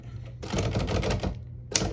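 Rapid clacking keystrokes on a Royal HHE manual typewriter, close and crisp, with a burst of typing, a brief pause, then more strikes.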